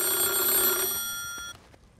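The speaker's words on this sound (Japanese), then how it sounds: "黒電話だ、鳴ってるね。" An old black rotary telephone rings in the horror video game Black Santa, a loud metallic bell trill that stops abruptly partway through, leaving faint clicks and quiet room tone.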